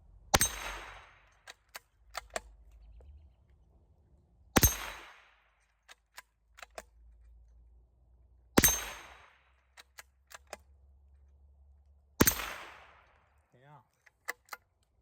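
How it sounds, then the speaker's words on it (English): Four sharp, well-spaced shots from a CZ 452 American .22 LR bolt-action rifle at small steel plates outdoors, each a crisp crack with a short decay, with faint clicks and handling noises between shots. "we're ready to shoot. See if I can hit a couple of these little plates."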